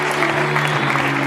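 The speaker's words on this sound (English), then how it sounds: "Do a round of applause for Martin Tideswell" An audience at a local radio awards night claps for a winner, a brief, steady burst of many hands over a sustained low electrical hum.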